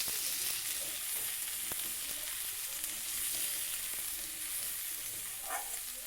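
Ginger paste and turmeric fry in a little oil in a pan for a dal dish, giving a steady sizzle with faint stirring scrapes and a brief clink partway through.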